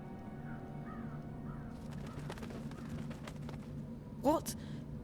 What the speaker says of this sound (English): I'm a bird. Crow's the name.